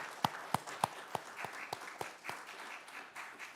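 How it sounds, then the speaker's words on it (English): An audience at a political candidate forum applauds the candidates, a thin, fairly quiet scattering of claps with several distinct strikes early on that soften and thin out toward the end. "Let's give them a round of applause."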